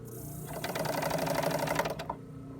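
A sewing machine blind-stitches a fabric hem in one short, steady burst of rapid close mechanical whirring that stops abruptly near the end.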